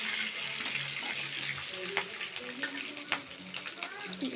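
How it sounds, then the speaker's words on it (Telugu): Cumin seeds and chillies fry in hot oil for a cauliflower gravy, giving a soft continuous sizzle with scattered pops and crackles while a voice talks over it. "జీరా వచ్చేసి చిట్పట్లాడుతుంది. నేను చిల్లీ వేసుకొని దీన్ని ఫ్రై చేస్తున్నాను బాగా"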